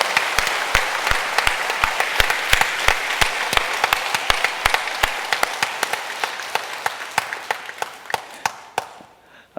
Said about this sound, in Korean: 우리 하나님께 영광의 박수 올리기 원합니다.